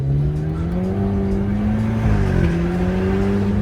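A BMW car brakes hard: a loud, close engine drone rises and then drops as the car slows, with a faint tire noise underneath and no voices.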